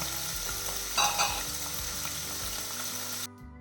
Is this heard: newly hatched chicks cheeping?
no